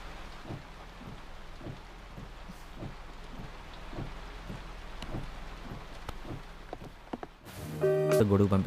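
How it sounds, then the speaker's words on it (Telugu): Steady heavy rain pours down in a comedy film scene, a dense, even hiss with faint periodic thumps, briefly joined by louder music-like sound near the end. "వర్షం ఆగేలా లేదు."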